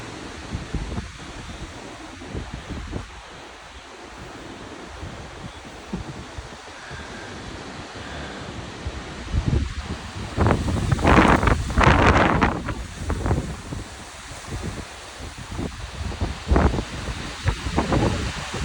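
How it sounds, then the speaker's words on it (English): Strong gusty wind roars through a wind and dust storm in Chubbuck, Idaho, buffeting the microphone in a steady rush that swells into louder gusts midway through. "And this wind it's not cool."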